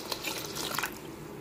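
Water pours from a cup into a pot for millet khichdi, six cupfuls measured in with salt and turmeric already added; a close, steady splashing stream runs through the whole short moment with no talk.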